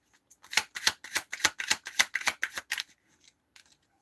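Tarot cards are shuffled close up in a fast run of about ten sharp, evenly spaced riffling flicks, then a few faint taps as the deck settles.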